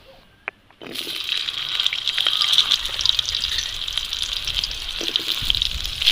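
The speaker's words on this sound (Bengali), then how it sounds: "গরম হয়ে গিয়েছে, এবার আমি পটলগুলো সব ভেজে নেব।" Pointed gourd hits hot white oil in a wok, bursting into a loud, continuous sizzle that holds steady after a brief quiet start.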